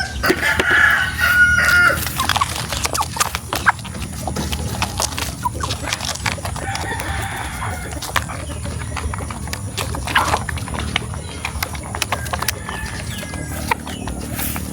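A large flock of egg-laying chickens at a poultry farm holding about 9,000 birds fills the space with constant clucking and squawking, a rooster crowing early on, plus knocks and clatter.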